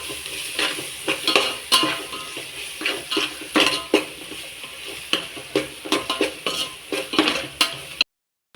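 Oil sizzles steadily in a pan as ginger garlic paste is sautéed for chicken biryani, while a spoon stirs and scrapes, with repeated clinks and knocks of metal on the pan.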